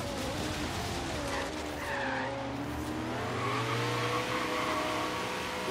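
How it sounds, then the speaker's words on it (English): Tires squeal continuously under a loud, revving Koenigsegg engine in Forza Horizon 3, a sustained screech of wheel spin with rising and shifting engine tones throughout. "Listen to the wheel spin on this thing"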